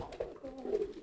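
Pigeons give low, soft coos at close range, a couple of rounded murmuring calls rising and falling over a quiet background.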